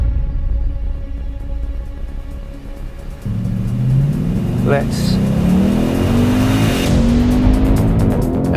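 A Ford Mustang V8 is driven hard, its engine note rising under acceleration before it brakes into a left-hand bend, loud and close from inside the car, while someone speaks over it.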